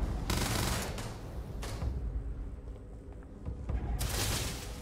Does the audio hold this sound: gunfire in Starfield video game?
yes